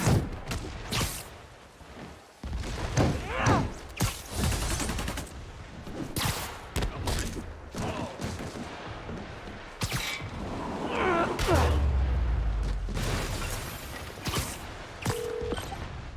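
Gunfire in the video game Spider-Man Remastered arrives in rapid bursts and single sharp cracks spread across the whole span, loud and close, with mechanical clatter and thuds between volleys.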